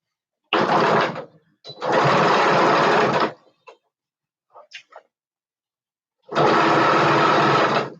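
A serger sewing machine stitches in three loud, steady runs of about one to three seconds each, with short quiet gaps and faint handling clicks between them, and no talking.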